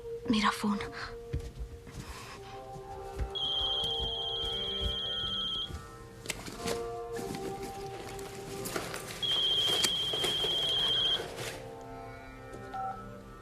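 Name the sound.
mobile phone ringing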